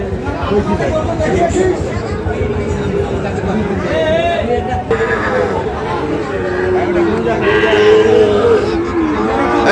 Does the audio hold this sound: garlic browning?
no